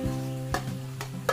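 Shredded chicken drops into a hot pan with cooked ground meat and sizzles, with a few sharp stirring scrapes and clatters over a steady frying hiss and a low hum.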